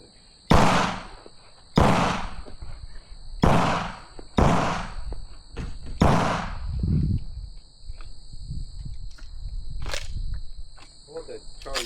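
Five loud, sharp firearm gunshots go off about one and a half seconds apart, each with a booming tail, followed by quieter shuffling, with insects chirping steadily in the background throughout.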